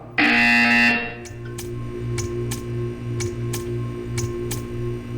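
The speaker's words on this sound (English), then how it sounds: "When you hear the buzzer, stare at the art." A loud buzzer from the Portal 2 video game sounds for about a second, followed by a faint repeating ticking clicks over a steady low hum.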